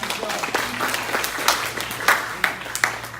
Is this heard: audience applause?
yes